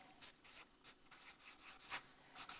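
Pen or pencil scratching on paper while shorthand notes are jotted down, a quick series of short rasping strokes in an uneven rhythm, close and fairly quiet, with no talking over it.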